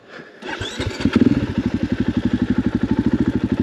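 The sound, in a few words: dirt bike engine riding a forest trail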